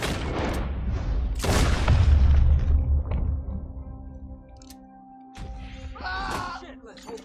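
A loud gunshot boom in the Red Dead Redemption II video game opens the scene, followed by fading reverberation and a quieter stretch, with a voice speaking later.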